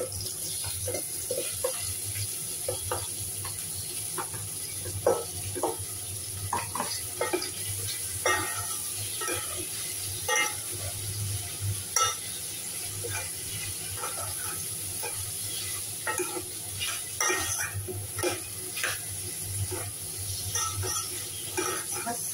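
Pork frying in a pan for adobo, with a steady sizzle and scattered crackles and pops over a constant background hum, moderately loud and continuous.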